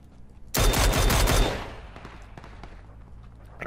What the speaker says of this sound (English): The gunfire is due east.